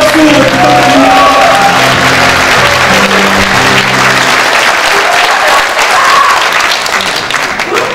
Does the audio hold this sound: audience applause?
yes